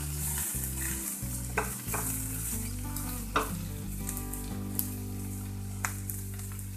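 Finely chopped onions fry in a pan to soften, a dense close sizzle with stirring scrapes and occasional sharp utensil clicks, with no voices.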